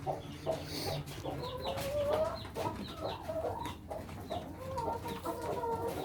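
Chickens clucking continuously at close range, several birds overlapping in a busy, chattering flock.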